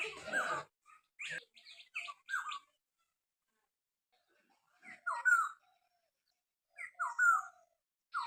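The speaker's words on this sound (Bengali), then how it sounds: "এই হলো সেই পাখির ডাক।" A bird, of the kind heard calling loudly near a home at dawn, gives clusters of sharp, rapid chirping calls, close and fairly loud, then falls silent for a couple of seconds before two more call bursts, with no talking.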